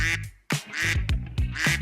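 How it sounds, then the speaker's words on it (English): A toy or sound-effect duck gives a run of loud, close, nasal quacks in quick succession, broken by one brief pause, with no other sound around them. "Wake up the duck. Where is the duck? There he is."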